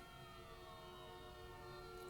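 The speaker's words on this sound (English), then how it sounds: "There goes a siren." A fire truck siren wails steadily in the distance as it passes, its tones holding through the whole clip with constant background rumble and no talking.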